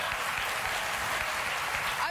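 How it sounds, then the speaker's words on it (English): A studio audience breaks into applause at a late-night talk show, a dense, steady wash of clapping that fills the short stretch close and fairly loud. "It does deserve applause."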